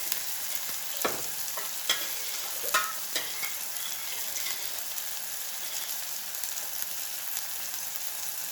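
Cooked toor dal tipped into softened tomatoes in a pan and stirred, a low wet sizzle with a few sharp spoon scrapes and knocks early on, fairly quiet and without voices.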